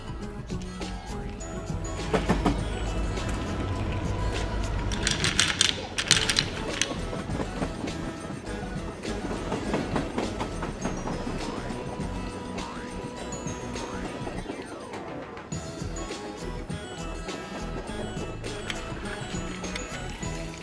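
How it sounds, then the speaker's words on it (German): A toy train running on its tracks, a steady rattling, clicking mechanical rumble with irregular knocks and clatter continuing for about twenty seconds, close and fairly loud. "Den Zug stellen wir jetzt auf die Schienen."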